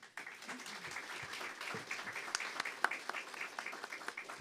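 A lecture audience applauds Doctor Andresa Fernandes Maciel with light, scattered clapping of many separate claps, fairly faint and sparse, and a voice briefly heard near the start.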